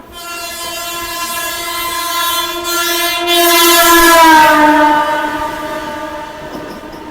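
A Sealdah–Ranaghat AC local train rolls along and sounds a long, loud, steady horn close by, with the rumble of the running train underneath.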